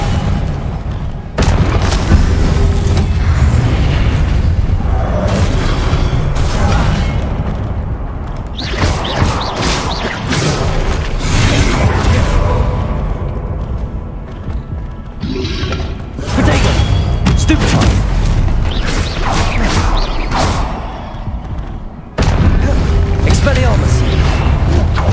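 Spell effects from the video game Hogwarts Legacy explode again and again in loud, heavy booms and whooshing blasts, one after another with brief breaks between them, while a voice shouts over the battle.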